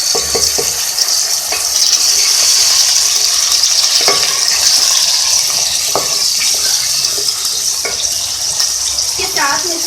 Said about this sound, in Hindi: ये देखिए फ्राई हो रहा है।